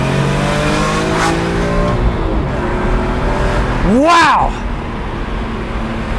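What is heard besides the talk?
BMW M3 E46 engine accelerating while driving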